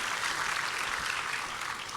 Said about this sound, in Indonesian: Beri tepuk tangan yang meriah buat Tuhan.